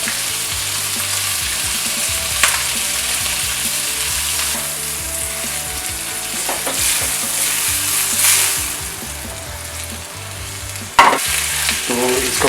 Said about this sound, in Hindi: तो इसको मैंने बटर में फ्राई कर लिया दोनों चीज़ों को